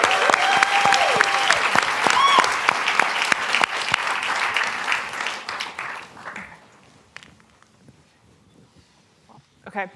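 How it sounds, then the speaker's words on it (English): An audience applauds for competitors at a startup pitch competition, a strong burst of clapping that gradually thins and dies away, followed by a few faint scattered sounds and a brief voice. "let's give one final round of applause for all the competitors"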